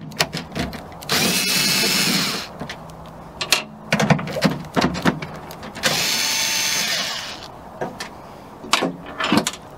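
A power drill backs out 10 mm screws from a 2014-2015 Chevrolet Silverado or GMC Sierra tailgate, with two sustained whirring runs of a couple of seconds each, separated by clicks, knocks and rattling handling sounds close by.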